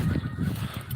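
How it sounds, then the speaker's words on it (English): Geese honk outdoors during a morning walk, several quick overlapping calls packed into a brief, fairly close burst. "The geese are all over there."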